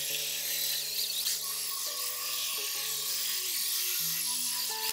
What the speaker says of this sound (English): we used a drill brush attachment to clean the floor mats